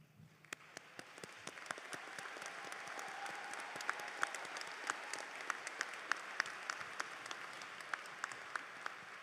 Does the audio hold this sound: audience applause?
yes